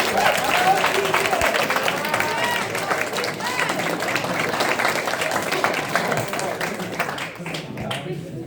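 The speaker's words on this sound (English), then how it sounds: "So, round of applause." Team members at a cross country team meal give a sustained round of applause, dense clapping and crowd noise filling the room for several seconds before tapering off, with some voices mixed in.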